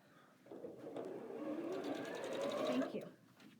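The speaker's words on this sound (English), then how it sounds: "Here, I'll sew on this" A sewing machine runs steadily for a few seconds, stitching quilt pieces together, with a faint whirring hum that starts, holds and stops near the close; no one speaks over it.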